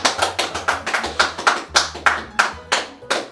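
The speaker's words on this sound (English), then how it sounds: "Please clap." Steady, rhythmic hand clapping in a home kitchen while a cake bakes: about a dozen crisp, evenly spaced claps, close and fairly loud, with no talk over them.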